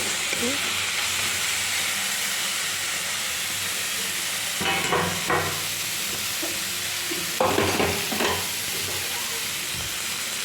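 Bete greens with ginger paste fry in a pan with a continuous close sizzle, and a spoon scrapes and stirs in short bursts partway through; no one speaks.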